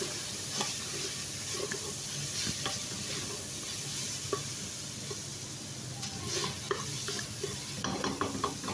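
Minced meat (keema) fries with ground spices in a pan, a close, continuous sizzle broken by frequent scraping and clinking as the mixture is stirred. No one speaks.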